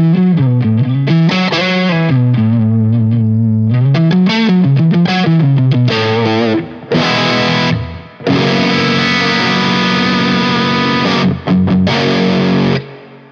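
Heavily distorted electric guitar played through a Laney GHR amp with a full, heavy low end, loud and close with sustained chords and riffs, a few brief breaks between phrases, no talking.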